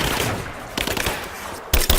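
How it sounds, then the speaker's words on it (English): Machine gun fire in Rise of the Tomb Raider: a loud, steady stream of shots that surges to a sharper, heavier burst near the end, with no voices heard. "I'm under fire!"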